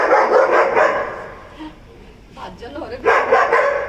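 Street dogs in a residential lane barking at a festival celebration: sharp barks and yips come in bursts at the start and end, close and loud, with people talking over and between them.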